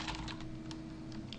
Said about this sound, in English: let me use my arrows on my keyboard to position it in the right place